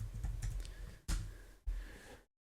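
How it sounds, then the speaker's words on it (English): Typing on a computer keyboard, a quick run of close, soft key clicks followed by two louder clacks with short pauses between. "I'm going to type Ngrok"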